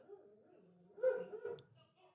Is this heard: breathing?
no